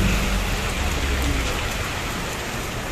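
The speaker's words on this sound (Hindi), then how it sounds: "बहुत बुरी तरीके से बारिश हो रही है" Heavy rain pours down hard in Delhi flooding, a loud, dense, continuous roar of drops hitting surfaces, with no voices over it.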